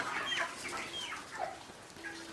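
Broiler chickens, 28 days old, cluck and call in a busy poultry house, several birds overlapping in short rising and falling notes against a steady low background hum.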